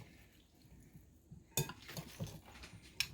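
Greek salad ingredients are tossed together in a bowl, faint soft rustles and stirring with a couple of sharper utensil clinks against the dish, quiet and close.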